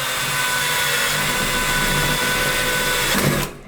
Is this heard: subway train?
no